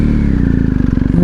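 A 2020 BMW R1250 GS Adventure boxer engine idles close by with a steady, low, throbbing pulse, then takes a light blip of the throttle near the end. No voices are heard.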